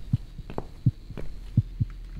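Heartbeat pulsing in the video game The Cat Lady, a run of deep thumping beats in paired, uneven rhythm over a low droning hum, louder and closer, with no voices.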